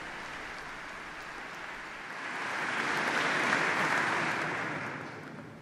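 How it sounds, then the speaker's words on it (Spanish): Applause started by nuns spreads through the cathedral in Bratislava, a broad wash of clapping that swells in the middle and then eases slightly, reverberant and crowd-wide. "El aplauso lo han comenzado las monjas, que son las víctimas de nuestras homilías."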